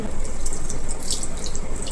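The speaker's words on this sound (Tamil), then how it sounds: "புளி தண்ணி ஊற்றலாம்" Tamarind water pours and splashes steadily into a vessel for tomato kuzhambu, a continuous close watery rush with faint dripping, no voices.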